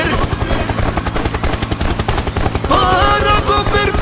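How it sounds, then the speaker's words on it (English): A helicopter in a Fortnite-like mobile battle royale game thuds with a rapid, pulsing rotor beat. Bursts of gunfire are mixed in close and loud. "Helicopter, helicopter."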